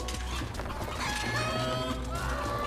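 Chicken clucks sound in LEGO Marvel Super Heroes 2, a busy run of game sounds with a hen's clucking calls and a low background hum.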